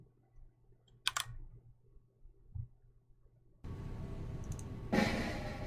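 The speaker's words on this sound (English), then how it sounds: "Click on the comment generator." Close, sharp clicks from a computer mouse and keys, a couple of separate taps followed by a denser patch of clicking over a rising background noise.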